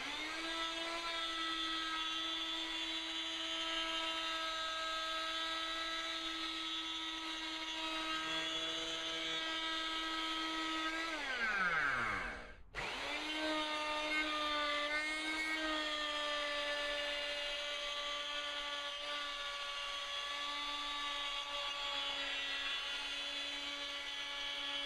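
A router spinning a bit through MDF to cut a flush-mount speaker ring hole whines steadily and loudly at high pitch, dips sharply as it winds down partway through, then returns to a sustained whine.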